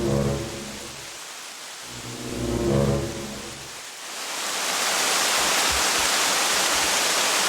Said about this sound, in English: It had been raining all night, and by the time morning came, it was still pouring down.